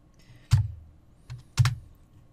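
Numbers go in on a computer keyboard as a few distinct, close key taps, spaced unevenly, with two louder strikes standing out against a quiet room.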